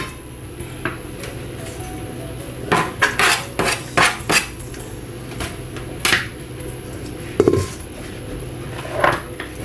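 Dishes and cutlery clatter nearby during deviled egg preparation, a bowl set down and utensils clinking in short irregular bursts, a few sharper knocks standing out against a quiet kitchen background.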